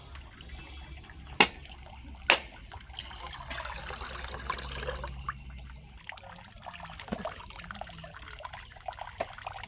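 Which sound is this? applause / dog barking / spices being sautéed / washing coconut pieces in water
washing coconut pieces in water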